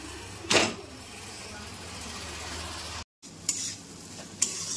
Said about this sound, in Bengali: তো সেই জন্য একটু ভাত ভাজা করছি